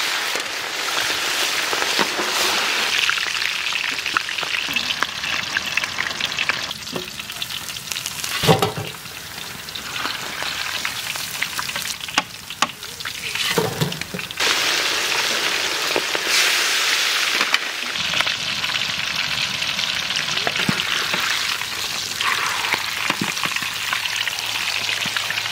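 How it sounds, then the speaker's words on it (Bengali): Hilsa fish frying in hot oil for a Bengali hilsa and mutton curry, a steady loud sizzle and crackle that runs throughout with brief dips and bursts of spattering. "ইলিশ মাছ একটু ভেজে নেব।"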